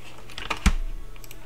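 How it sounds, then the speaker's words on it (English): A few computer keyboard keys are pressed in quick succession, close and crisp, ending with one louder tap and fading clicks. "press the minus button on your keyboard, or if you want it closer, the plus button"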